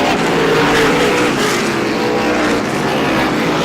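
A pack of race cars roars around Star Speedway during an SBM 125 race, a dense, continuous wall of engine noise from several cars at once, loud and unbroken.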